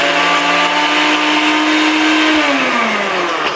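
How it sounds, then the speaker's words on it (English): A blender roars loudly and steadily, pulsing frozen berries for a keto acai bowl, its motor pitch holding then dropping slightly near the end as it chews through the frozen fruit. "I first like to just put on the blender top and blend it just for a little bit and pulse it"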